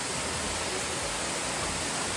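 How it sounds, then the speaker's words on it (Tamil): A small natural waterfall at a swimming area on a US trip, giving a steady, dense rush of falling water that stays even and unbroken throughout, with no voices over it. "இந்த இயற்கை ஃபால்ஸ் சவுண்டோட"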